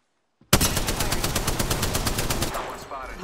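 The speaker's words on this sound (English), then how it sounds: "Shot fired, and they're hitting me." Automatic gunfire in the video game Apex Legends bursts in suddenly after a moment of silence, a loud, fast, evenly spaced string of shots that runs for nearly three seconds before tailing off.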